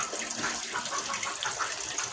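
Hot water poured over vegetables in a home kitchen while cooking a simple paliya with egg, a steady splashing, gushing stream running close and continuous with no talk.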